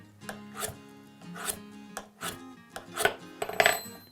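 A steel cabinet scraper is drawn across a flat plate to turn a burr on its edge, giving a series of short, close scraping rasps in an irregular rhythm with small metallic clinks.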